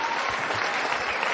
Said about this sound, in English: listen to that crowd, Josh